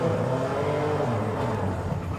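A 2023 BMW M2 engine roars steadily at high revs in Forza Horizon 5, loud and close inside a tunnel, with a dense, rumbling drone that holds throughout without any talking.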